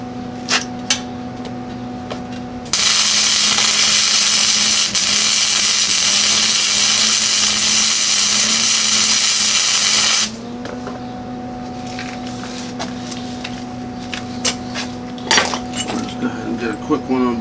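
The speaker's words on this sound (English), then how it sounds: "Let's weld this on here real quick." Metal parts being welded onto a scrap-built rat rod go-kart: a loud, steady crackling hiss runs for about eight seconds, then stops. Quieter workshop clatter and a low hum fill the moments before and after.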